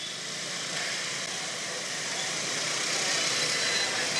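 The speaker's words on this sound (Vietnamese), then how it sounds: "Kẹt xe rồi." Idling cars and motorbikes jammed on Lê Văn Duyệt street in Saigon make a dense, steady wash of engine hum and hiss with no clear voices.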